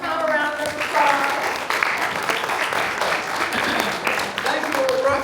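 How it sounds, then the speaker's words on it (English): A luncheon audience at a Pilgrim Auxiliary meeting gives Tom a round of applause, a steady wash of clapping from many people lasting several seconds, with voices talking and calling out over it. "Let's give Tom a round of applause"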